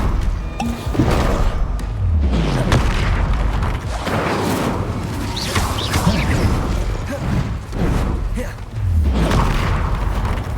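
Spell explosions from the Incendio fire charm in the video game Hogwarts Legacy: repeated loud booms and crashing bursts under a dense, continuous combat din, with one voice calling out spells.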